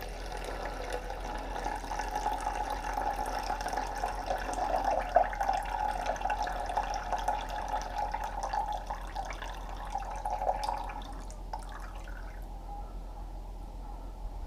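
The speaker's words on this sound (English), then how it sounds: "So I'm going to add that to my yeast, which is at 10." Water poured steadily from a jug onto yeast in a mixing bowl while making a bread loaf, a continuous close trickle lasting about eleven seconds before tapering off into quiet.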